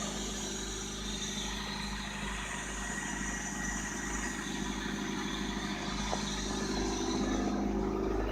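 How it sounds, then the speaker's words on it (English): A 1997 Honda Civic LX idles just after a cold start in deep snow, giving a steady, fairly quiet engine hum that swells slightly toward the end, with no voices. "Cold start, man. You always know you can count on your Honda."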